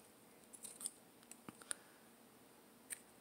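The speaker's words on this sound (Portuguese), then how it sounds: "Vou cortar." Scissors snip through ribbon while a bow is finished, a scatter of small quiet clicks and one sharper cut, close and faint against near silence.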